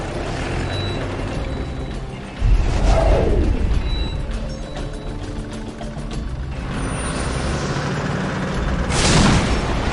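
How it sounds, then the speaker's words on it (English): Whirlwind missile battery launching in the Dawn of War strategy game, a loud booming launch burst followed by a rushing whoosh and a second surge near the end over constant battle rumble. "Preparing whirlwind missile battery to fire."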